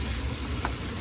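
Vegan mince fries in a pan with a steady, close, unbroken sizzle and hiss.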